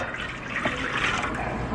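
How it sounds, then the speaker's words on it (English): Warm water pours into a greased bread pan as a steady, close splashing rush with a slight gurgle, one cup's worth at an even level throughout. "Now we're just going to go in with 1 cup of warm water"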